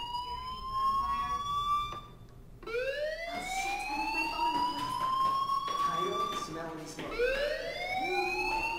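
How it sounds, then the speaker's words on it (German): Fire alarm in the video game Life is Strange, a rising, wailing electronic tone that sweeps up repeatedly in long cycles, steady and fairly prominent against a quiet background. "Hey, do you hear that fire alarm? That means you should be outside."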